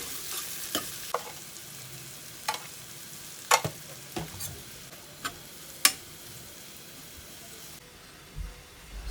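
Carrots, beans and mushrooms cook in a pan with a soft background sizzle, punctuated by a series of sharp, close utensil clicks and scrapes from stirring at irregular intervals.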